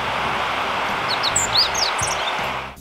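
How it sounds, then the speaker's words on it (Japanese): A meadow bunting sings from a riverside levee in northern Harima, Hyogo, its bright, quick chirping phrases rising fairly faint and distant above a steady outdoor background hiss. "ホオジロの鳴き声もね"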